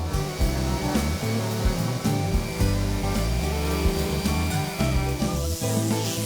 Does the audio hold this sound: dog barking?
no